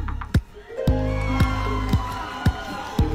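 At a live show in New Zealand, a crowd cheers, shouts and whoops for the first contestant of a Mr. Right pageant. The loud roar runs throughout, cut by sharp periodic thumps and ringing tones.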